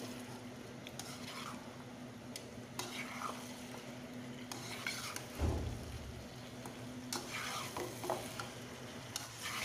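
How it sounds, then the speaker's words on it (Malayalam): Camel meat gravy with coconut milk being stirred in a pan, a low bubbling sizzle with repeated scraping strokes and occasional utensil knocks, fairly quiet. "ഇനി നല്ലപോലെ ഒന്ന് ഇളക്കി മിക്സ് ചെയ്ത് കൊടുക്കുക"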